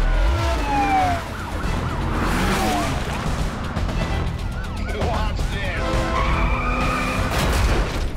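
Police sirens wail during a high-speed chase in the video game Need for Speed Carbon, mixed with tyre skids and engine roar, loud and continuous for the whole stretch.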